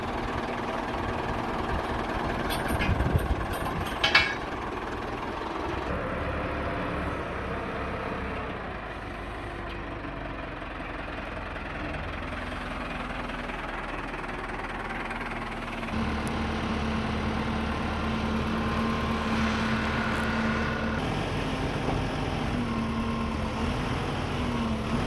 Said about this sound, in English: Got the auger on there. Got a 12-inch bit there to drill out the holes.